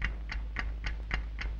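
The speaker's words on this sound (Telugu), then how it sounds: "ఏంటి టిక్ టిక్ శబ్దం వస్తుంది?" Ticking of a time bomb in a fantasy drama film, six evenly spaced sharp ticks about a quarter second apart, faint and alone over a low hum.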